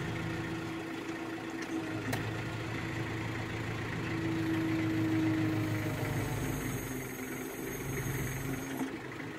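A vehicle engine in low gear drags a wagon backwards, a steady low rumble running throughout with a brief rising whine partway through, close and continuous with no talking.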